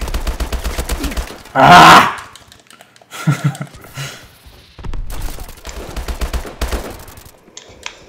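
Call of Duty: Advanced Warfare gameplay with a sentry gun firing rapid automatic bursts, loud and close, broken by a sharp blast and short gaps, while a player shouts briefly.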